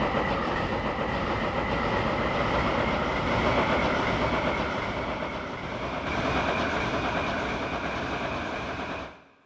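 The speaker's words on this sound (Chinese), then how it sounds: "609号火车。" A train sound effect played from a Narrow Keys Athena NK5.5 digital piano: a steady, loud rumbling roll with rhythmic clatter lasting about nine seconds before cutting off abruptly.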